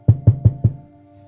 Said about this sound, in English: Yes, knocking?